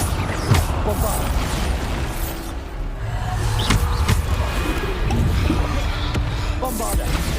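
Blasting Bombarda spells cast in Hogwarts Legacy on PC, a run of short booming bursts and pops over a dense, busy game-combat bed, with a voice calling out between the blasts.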